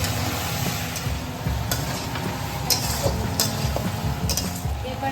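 A spatula stirs ginger paste into potatoes and mixed vegetables in a frying pan, with a steady sizzle, soft scraping, and occasional clinks against the pan throughout.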